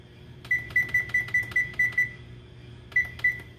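A kitchen cooking timer, set while nachos cook, gives a quick run of about eight short, clear beeps, then a pause and two more beeps, close and alone.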